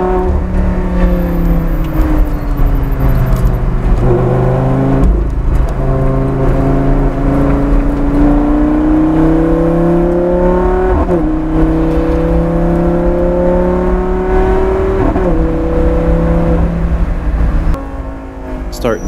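A Lamborghini Gallardo GT race car driven on a track, its engine droning loud and continuous with rising and falling pitch through gear changes and corners, engine noise throughout.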